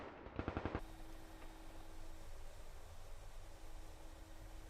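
A quick burst of about five rapid gunshots rings out from a group firing on a base's front gate from a tree line in the DCS flight game. A steady mechanical drone and hum carry on after the burst.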